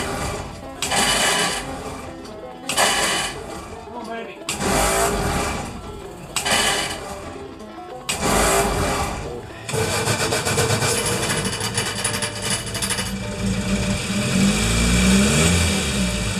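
Cold Crosley car engine cranking in several short bursts, then catching and running steadily, loud and close, with a rough mechanical whir.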